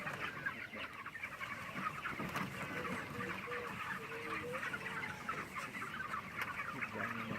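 Broiler chickens in a moving field tractor cluck and murmur continuously at close range, a busy overlapping flock chatter with occasional louder calls throughout.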